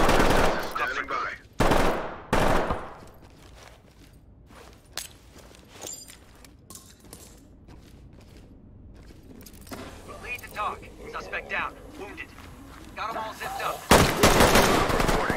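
Bursts of gunfire in the tactical shooter Ready or Not: loud, sharp volleys at the start and again near the end, with footsteps and scattered mechanical clicks between and spoken exchanges over the action.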